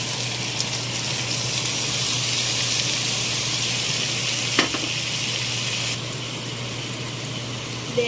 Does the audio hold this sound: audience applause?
no